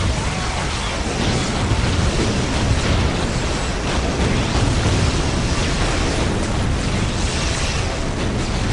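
A bomb explosion in a Dawn of War Dark Crusade cinematic: a dense, loud, continuous roaring blast of broadband rumble and debris that stays steady for several seconds without clear separate hits.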